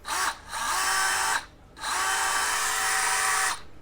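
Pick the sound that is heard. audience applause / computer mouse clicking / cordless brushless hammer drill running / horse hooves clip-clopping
cordless brushless hammer drill running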